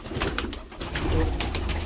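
Soft, low pigeon cooing murmurs through the clip, with a few brighter rustles or flutters near the birds and no talking.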